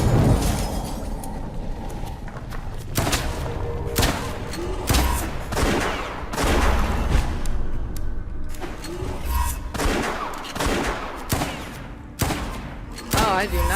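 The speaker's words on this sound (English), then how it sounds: "I do not like the shooting in this game." Video game gunfire from West of Dead, repeated bursts of shots with heavy booms and rapid volleys in quick succession, loud and close, with occasional explosive impacts mixed in.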